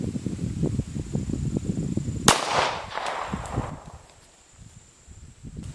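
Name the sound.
50 BMG rifle shot hitting hickory wood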